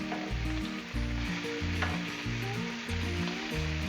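Bacon frying on a Blackstone griddle set to low gives a steady, close sizzle that runs throughout, with a rhythmic low musical beat underneath.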